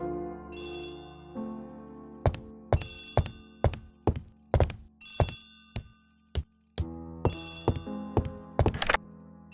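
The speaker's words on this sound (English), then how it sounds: "Poirot, the telephone. It must be Jap." An old-style telephone bell rings in repeated bursts, each ring sharp and metallic with short gaps between, heard clearly and alone inside an Agatha Christie: The ABC Murders game scene.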